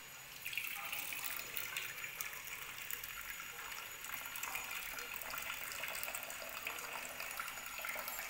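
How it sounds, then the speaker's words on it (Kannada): Water is poured off a pot of cooked lentils in a steady, even, splashing gush that runs the whole time with no voices. "ಈಗ ಬೇಳೆನ ಮಸ್ಕೊಳ್ಬೇಕು. ಅದಕ್ಕಿಂತ ಮುಂಚೆ ಬೇಳೆಯಲ್ಲಿರೋ ನೀರನ್ನು ಸಪ್ರೇಟ್ ಮಾಡ್ಕೊತಾ ಇದ್ದೀನಿ"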